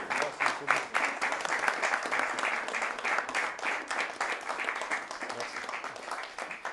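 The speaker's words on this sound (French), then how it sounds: "c'est moi qui vous applaudis" Dense, steady applause from a gathered audience fills the space, an even wash of many hands clapping close by with no pause throughout.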